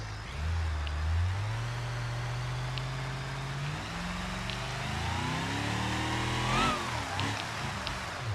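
A rock crawler in BeamNG.drive revs its engine steadily for several seconds, the pitch rising and falling as RPM changes, with a sharper surge near the end; no talking.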